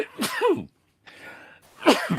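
A person sneezes twice at close range, with a sharp burst, a brief pause of breathy hiss, and then a second forceful sneeze.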